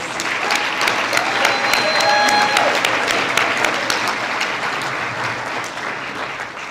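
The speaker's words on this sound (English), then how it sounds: "Big round of applause, please" Guests at a shad derby coronation ball give a big round of applause, a loud, dense, continuous burst of clapping lasting several seconds, with a few whistles rising briefly over it.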